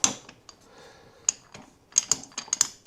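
A Gotrax GX3 electric scooter's folding lock is pushed down to latch. It gives a quick series of sharp, close plastic-and-metal clicks, a few scattered early and a tighter cluster near the end.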